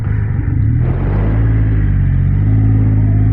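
A Triumph Rocket 3 GT motorcycle's big engine idling and revving, a loud, close, deep, smooth rumble that swells slightly midway and holds steady, with no voices.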